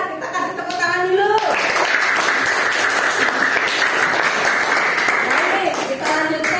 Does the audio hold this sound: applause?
yes